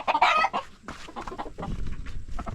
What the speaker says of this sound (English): So these are the fighting cocks, the fighting roosters.